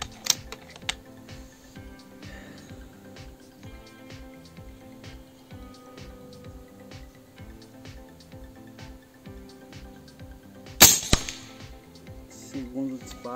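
A Fiora X M22 long-range air rifle fires one sharp, loud shot about two-thirds of the way through, set against a steady patter of faint rhythmic ticks and an occasional voice.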